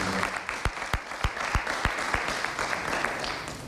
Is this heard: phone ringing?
no